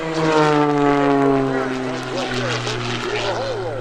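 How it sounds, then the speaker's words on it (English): A CAP 580 aerobatic airplane flown by Matt Chapman at the 2013 Lehigh Valley Airshow roars loud and steady overhead, its propeller engine droning with shifting pitch as it performs a torque roll. "Let the airplane be spun around by the force of the engine."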